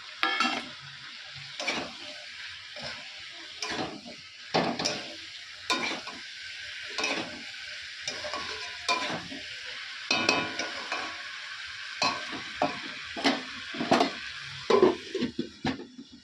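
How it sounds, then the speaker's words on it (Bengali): Fried potatoes stirred into a chicken curry in a pan: repeated spoon scrapes and soft clacks at a roughly steady pace over a faint background sizzle. "ভাজা ভাজা আলুগুলো দিয়ে দেবো"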